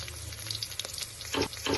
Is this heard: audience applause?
no